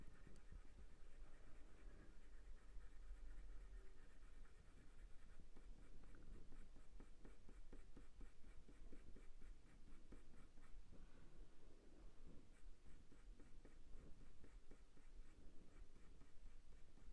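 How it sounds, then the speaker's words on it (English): Pencil shading on paper while drawing a ginger tom cat, a faint, continuous scratchy rasp of graphite strokes with rhythmic back-and-forth scraping and light pressure changes, close and quiet. "where it's a bit darker with this pencil, I'm just putting a bit more pressure on and then tapering it off where it's a bit lighter"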